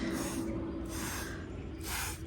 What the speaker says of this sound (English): spray it down really well